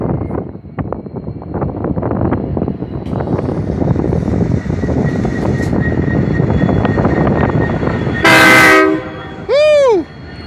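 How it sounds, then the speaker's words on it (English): A freight train rolls in at a footbridge in Springfield, Missouri, a steady rumble of wagons building and holding, then two loud, sustained horn blasts near the end with a rising, falling tone. "We got a little freight train coming in."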